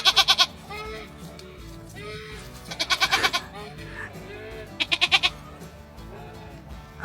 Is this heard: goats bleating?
yes